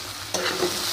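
Potatoes stirred and frying in a pan, a steady sizzle that swells with a scraping stir partway through, close and alone.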